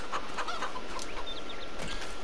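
Chickens clucking in Farming Simulator 22, a close, steady run of short clucks and soft squawks from a flock with no talk over it.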